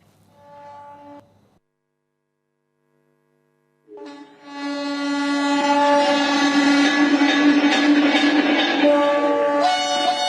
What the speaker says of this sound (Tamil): தொடர்ந்து 3 வந்தே பாரத் ரயில்களையும் பிரதமர் மோடி தொடங்கி வைத்தார்.